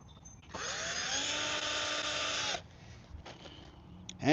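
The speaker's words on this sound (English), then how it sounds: "Last 3 screws going in." A power drill whirs steadily for about two seconds, driving a screw into a wooden sandbox outdoors, loud and close, then stops with some handling clatter after.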